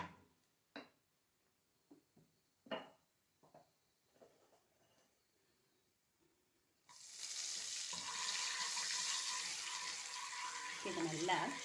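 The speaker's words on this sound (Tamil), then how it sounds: "அந்த மசாலா இதில் நல்லா பிடிக்கிற மாதிரி நம்ம நல்லா ரோஸ்ட் பண்ணிக்கலாம்" Makhana with Kashmiri chili powder and salt roasts in a pan: a few faint scrapes and taps, then a steady, fairly loud sizzling hiss that continues to the end.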